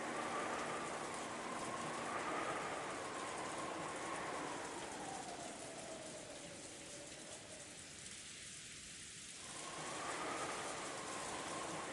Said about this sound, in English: It was a quiet dinner, bringing no respite from the true sound of rain that was creeping into the dining hall.